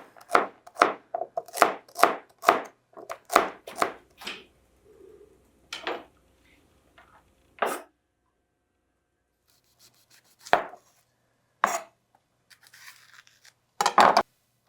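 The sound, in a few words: chopping carrots with a knife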